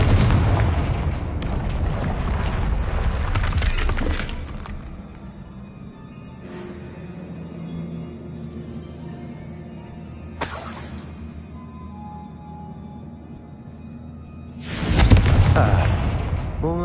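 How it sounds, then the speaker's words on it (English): A Confringo spell blasts through a barrier in the Hogwarts Legacy video game, with bursts of loud shattering, booming impact noise near the start, a brief crack midway and another heavy blast near the end over a low ambient rumble. "Another barrier. We can blast through it."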